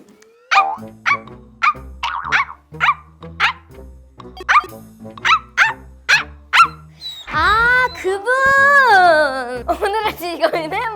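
A dog barks over and over in a steady rhythm, then breaks into drawn-out whining and howling, loud and close.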